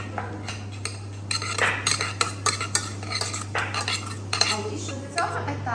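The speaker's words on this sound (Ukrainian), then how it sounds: "додам одну столову ложку рисового оцту і перемішаю гарненько" A spoon stirs cooked sushi rice with a tablespoon of rice vinegar in a bowl, giving repeated scraping and clinking strokes, close and fairly loud over a steady low hum, with no talking.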